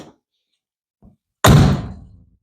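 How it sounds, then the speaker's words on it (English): A single loud car door slam close by on a rusty 1968 Firebird, followed by a brief fading rattle and clatter of rust falling. "every time I close the door, all you hear is rust falling"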